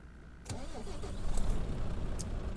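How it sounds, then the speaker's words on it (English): A DAF truck in Euro Truck Simulator 2 cranks and starts, then settles into a steady, low diesel idle that grows slightly louder, with a few faint clicks over the engine. "All right, let's start her up, shall we?"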